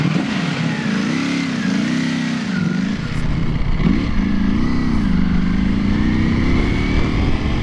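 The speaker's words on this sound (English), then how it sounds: "so here we are riding at Willow Springs, a Ducati Panigale V4R." A Ducati Panigale V4R sport motorcycle ridden hard on the Willow Springs race track, its engine droning loudly and steadily with rising and falling revs through gear changes, heard close up with continuous wind noise.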